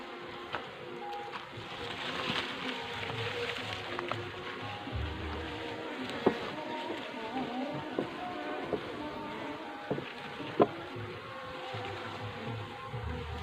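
A honey bee colony, smoked so the bees leave their nest, gives off a low, steady buzzing, with occasional sharp knocks and clicks from handling the hive box.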